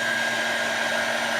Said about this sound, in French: on va le sécher au sèche-cheveux 10-15 minutes